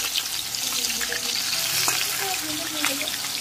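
Fish sizzles in a pan of mustard-poppy sauce and is turned with a spatula, giving a steady hissing fry with a few soft scraping knocks and no voices.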